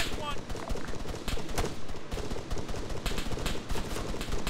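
Gunfire in the military shooter game Arma 3, rapid bursts of shots crackling repeatedly throughout, fairly close and loud.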